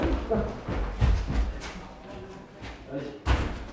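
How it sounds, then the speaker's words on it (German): A door is pulled shut indoors at a gallery, with a couple of solid thuds and a slam near the end, mixed with bumping and shuffling sounds and some talking in the room. "warte mal, ich mache die Tür zu"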